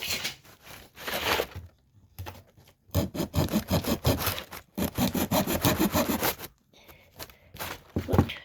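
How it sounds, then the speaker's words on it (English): A small hand saw cuts a piece of wood in half with close, rhythmic rasping strokes in several runs separated by short pauses. "in half like this with my trusty little saw."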